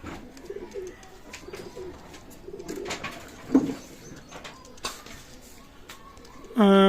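Pakistani high-flyer pigeons cooing in soft, repeated low throaty phrases at close range, with brief wing flaps and scattered noise between calls and a louder burst of cooing at the end.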